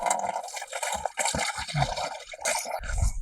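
Water splashes and gurgles steadily as it is poured to wash a goat head for village-style cooking, a continuous wet rush with a few brief knocks, fairly close.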